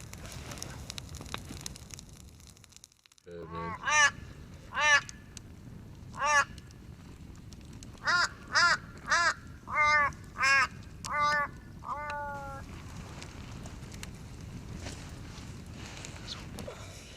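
Crows cawing close by, a series of harsh, separate caws coming in uneven bursts over a low outdoor background.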